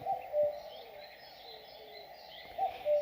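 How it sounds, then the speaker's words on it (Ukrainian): Birds sing in a sunny meadow near a forest, with soft cooing like a dove and light chirps repeating at a moderate distance, steady and unaccompanied by speech. "Співають птахи."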